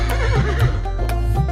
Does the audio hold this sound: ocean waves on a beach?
no